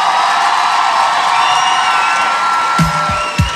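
A studio audience at a comedy talk show cheers and applauds its guests, a loud, dense roar of clapping and whoops that holds steady throughout, with a few sharp shouts near the end.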